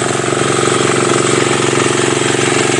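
A loud irrigation pump engine on a farm in the Philippines runs steadily and close by, with a rapid chugging rumble and no voices over it.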